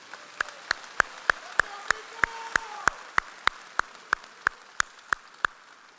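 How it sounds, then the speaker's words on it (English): Sharp, evenly spaced claps ring out in a steady rhythm, roughly three per second, with a faint murmur of voices underneath, at a college commencement ceremony. "let's give Nico a round of applause."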